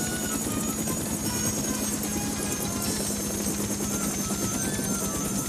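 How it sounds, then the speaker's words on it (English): Rotor whir and low pulsing drone of helicopters circling in an animated series, heard steadily and fairly close without any talk. "The choppers are circling."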